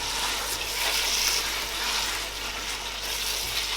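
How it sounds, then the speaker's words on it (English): Chopped tomato simmering in a pot, a steady bubbling hiss with soft crackle that holds at an even level throughout, with no talking. "Now I will allow it to simmer together for 5 minutes."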